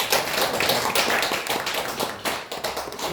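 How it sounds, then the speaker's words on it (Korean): Congregation in a Korean church service applauding a returning member, a dense, steady wash of claps filling the whole moment at close to moderate distance, with no talking. "우리 박수 한번 해드립니다."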